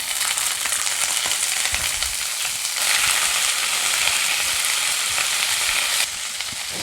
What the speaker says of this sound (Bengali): তেলটা গরম হয়ে গেছে, এর মধ্যে আমি চিংড়ি মাছগুলো দিয়ে দিচ্ছি।